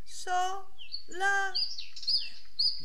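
A nightingale's song in a children's story, heard as short bright whistled chirps and trills that follow a voice and stay close and clear.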